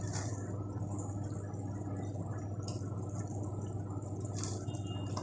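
Pot of salmon head sinigang soup at a boil gives a steady low bubbling and simmering rumble with faint occasional drips, continuous and close, with no talking.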